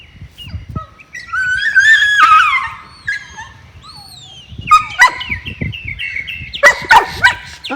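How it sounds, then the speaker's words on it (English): Farm dog giving a few sharp barks in the middle distance, mixed with loud bird chirps and calls around it outdoors. "It's just a crazy dog bark."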